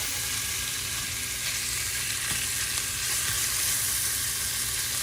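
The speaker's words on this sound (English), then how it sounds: "we are going to go ahead and start breaking this meat up" Ground beef seasoned with pepper fries in a pan for a truffle penne dish, a constant dense sizzle filling the whole stretch, with faint scraping as the meat is broken apart.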